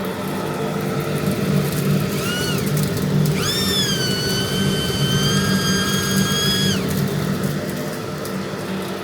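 A dust extractor switches on with a steady broadband roar, and a high whine swells in, holds for about three seconds, then falls away. The run reaches roughly 470 CFM of airflow.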